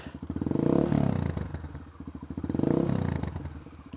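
A Honda MSX125 GROM motorcycle engine with its exhaust revs up twice in swelling, rising bursts that settle back to a steady, rapid idle throb between them, close and fairly loud with no voices.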